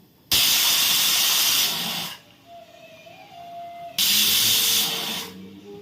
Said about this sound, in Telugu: రెండు విజిల్స్ వచ్చినాయి ఆపేస్తున్నాం గ్యాస్